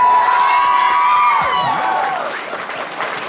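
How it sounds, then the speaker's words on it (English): A convention panel audience cheers and applauds for the staff, a loud crowd of claps, whoops and high shouts filling the room with a sustained whistle-like tone early on, gradually easing off. "can we get a round of applause for the staff of Everfree Northwest?"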